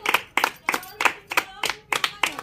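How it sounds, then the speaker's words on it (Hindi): A group of people clapping hands in a steady, fairly quick rhythm, about eight bursts of claps close by, with a faint voice underneath. "तालियां बजाओ सब,"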